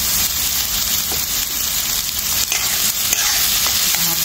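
Chopped carrots and onion fry in hot oil while being stirred, producing a loud, continuous close-up sizzle with occasional scraping and no talk.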